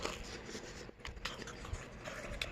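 Tteokbokki rice cakes dipped in sauce and eaten, giving soft, close chewing and biting noises with small wet clicks and crunches throughout, fairly quiet and without talk.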